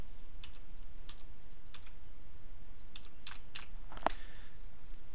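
A search term is typed on a computer keyboard in short bursts of light key clicks, close and fairly quiet, over a faint background hum.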